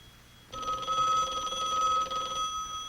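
An old telephone bell rings once in a long, loud metallic trill, starting abruptly after a short quiet moment and cutting off just before the end, with no talk over it.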